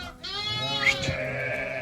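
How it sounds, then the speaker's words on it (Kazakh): Lambs and sheep bleating at lambing time on a Kazakh farm, several overlapping wavering calls, near and fairly loud, with no talk over them. "шуылдап жүрген қозылар"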